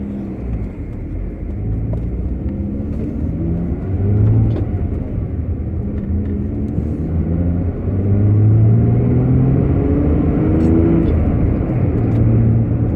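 A Jaguar XJ6 X300 engine, just fitted with a new crankshaft position sensor, runs at a low, steady rumble close by, with a gentle rise in revs partway through and a fuller, louder stretch toward the end.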